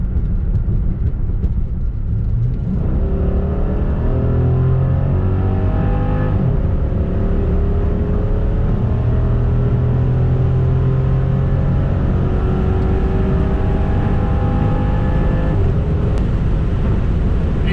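A Dodge SRT sedan accelerates hard, its engine roaring loud from inside the cabin, climbing in pitch through several gears with brief dips at each shift.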